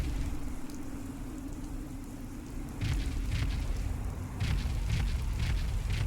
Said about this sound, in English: No, that's not footsteps, that's actually explosions